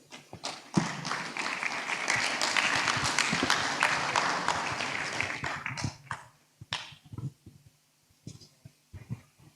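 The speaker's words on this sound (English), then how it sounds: "Please, another round of applause for our teacher." An audience at an AML sensitization workshop claps steadily and loudly for several seconds, then the applause breaks up into a few scattered, separate claps before fading out.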